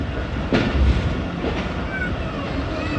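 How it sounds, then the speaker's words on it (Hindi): Jaffar Express train pulling into platform 3 at Rawalpindi railway station, with a steady rumbling roll, a clank near the start and faint squeals of wheels on rails. "हमारी 40 डाउन जाफ़र एक्सप्रेस का अराइवल हो रहा है रावलपिंडी रेलवे स्टेशन के प्लेटफार्म नंबर 3 पे"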